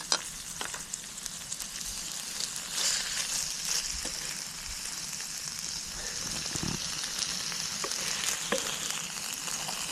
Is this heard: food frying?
yes